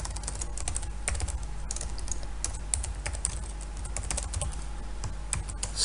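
Fast, steady typing on a computer keyboard, a dense run of crisp key clicks close by over a low background hum, with no talking.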